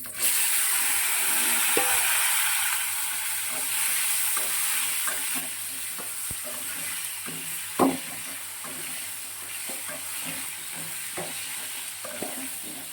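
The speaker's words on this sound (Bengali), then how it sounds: "জিরে ফোড়ন দিচ্ছি, সাদা গোটা জিরে, আলু আর টমেটো কেটে রেখেছিলাম দিয়ে দিচ্ছি।" Whole white cumin seeds, chopped potato and tomato frying in oil after fish was fried, producing a dense sizzle up close with frequent stirring scrapes and one louder clatter near the middle, no speech.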